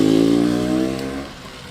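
A 1968 Yamaha DT1 250 two-stroke motorcycle engine revs loudly up close, a sustained buzzing note that holds for about a second and then falls away as the throttle closes.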